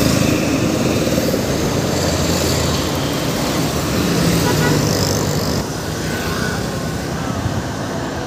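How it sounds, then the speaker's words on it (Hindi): Vehicles passing along a main road, a loud continuous rumble of traffic with engines swelling and fading as they go by, easing slightly toward the end. "गाड़ी आउसी देखो"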